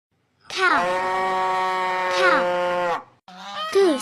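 A goose gives two long, loud honks, a strained nasal call that swells in the middle, then a shorter honk after a brief gap.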